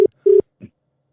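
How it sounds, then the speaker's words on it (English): Telephone dialing tones: two short steady electronic beeps, the second longer, followed by a faint brief blip, close and clear with no talk. "Rami, answer the fucking phone, bro"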